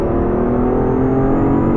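A loud Ferrari Testarossa engine roars continuously up close while accelerating, a dense rumbling drone with steady revving and no voices.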